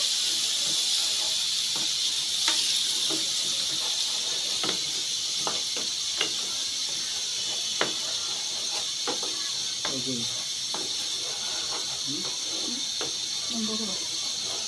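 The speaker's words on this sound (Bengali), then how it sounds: "এটা আমি মশলাটাকে ভালো করে কষিয়ে নিচ্ছি। মশলা থেকে তেল ছাড়তে শুরু করেছে।" Spice paste with tomato paste fries in a pan, giving a steady, bright sizzling hiss with scattered clicks and scrapes from stirring, fairly close and continuous.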